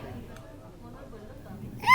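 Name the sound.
hiccups in a movie scene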